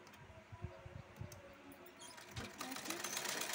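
A sewing machine runs up a line of stitching on a fabric strip, starting with a few short bursts and then running continuously, soft and nearby.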